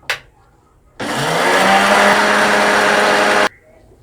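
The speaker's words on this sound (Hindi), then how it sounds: "अब इसको ग्राइंड कर देंगे 1 मिनट के लिए" A kitchen mixer grinder coarsely grinds masala for khatta aloo, starting abruptly with a loud, steady whirring roar. It holds for about two and a half seconds and then cuts off sharply, with quiet before and after.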